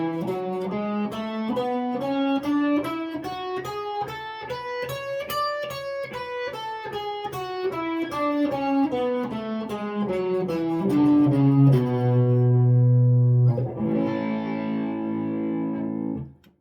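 Distorted electric guitar with an effects unit runs a major scale up and down across several fretboard positions in one continuous pass, a steady stream of single picked notes ending in held, thick low chords.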